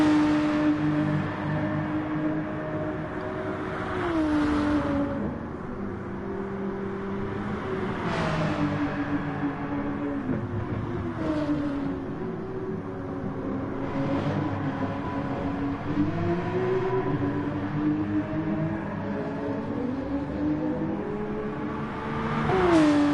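Race car engines circle Suzuka in a racing video game during an FIA Nations Cup round, a loud continuous whine rising and falling as the engine revs through gear changes, with other cars occasionally rushing past.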